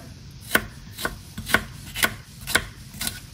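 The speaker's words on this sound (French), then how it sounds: "on va le hacher finement" Garlic being finely chopped with a knife on a board, six crisp, evenly spaced chops about half a second apart, close and clear with no talking.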